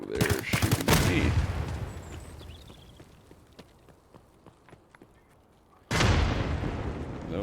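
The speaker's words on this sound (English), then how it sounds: "Those are PMCs, because that was a grenade." Video game combat: a burst of loud gunfire and a grenade blast at the start, scattered fainter shots in the middle, then another loud burst of gunfire near the end.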